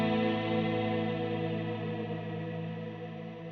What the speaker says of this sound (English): Eventide made a new reverb algorithm with the H90 called Wormholes